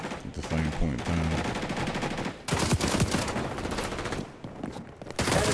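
Sustained rapid gunfire from XDefiant, loud and close in dense continuous bursts with brief gaps, with someone talking briefly under the shots.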